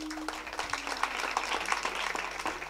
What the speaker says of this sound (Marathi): परत एकदा टाळी वाजवा.